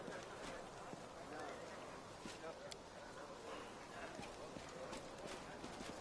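Horse hooves clip-clopping in the fantasy role-playing game Pathfinder: Wrath of the Righteous, with repeated hoof steps over a busy ambient bed and speech underneath.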